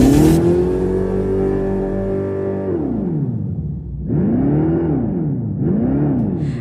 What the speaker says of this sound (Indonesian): Jadi Dodge bikin sistem Fratzonic Chambered Exhaust, kayak speaker gede yang simulasiin suara mesin muscle car.